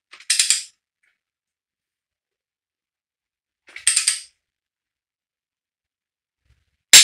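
A torque wrench ratchets while tightening cylinder head bolts on a GT40 engine: three short, crisp mechanical bursts of clicking separated by long silent pauses, the last cut off at the end.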